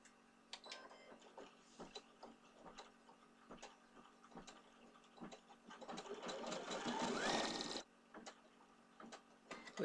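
An embroidery machine stitches a leprechaun design in brown thread, its needle ticking in rapid, even bursts with short pauses, building to a denser, louder run near the end before settling back to lighter clicks.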